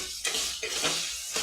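Mixed vegetables sautéing in hot oil in a pan for a vegetable dal rice dish, a steady close sizzle with short bursts of crackling and stirring scrapes.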